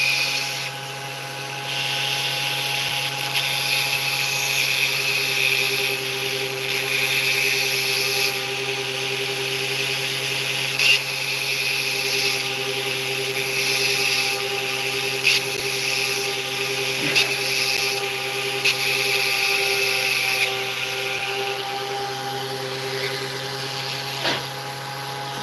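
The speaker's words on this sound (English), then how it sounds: "And now I'm using a round burr to cut out more of the hole where I drilled." A round burr spins steadily in a drilled hole in a piece of jewelry, widening it for a gemstone setting. It gives a constant close motor whine with a faint grinding edge and no clear pauses, and no one speaks.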